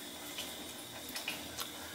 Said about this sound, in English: you can see right down there at the tip of my light, the water's dripping right there.